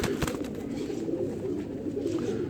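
A Sharkay breeder pigeon held in the hand coos softly and continuously, its low throaty murmur steady throughout, with faint handling noises at the start.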